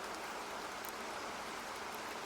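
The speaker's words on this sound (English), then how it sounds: "You've heard it already, but rain sounds like this." Steady rainfall hiss, dense and even, with no pauses and no voices: the rain background sound in macOS Ventura.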